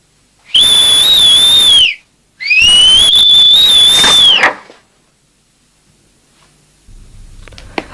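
A girl whistles two loud, sustained tones close by, the second a little longer, followed by quiet and then faint rustling movement.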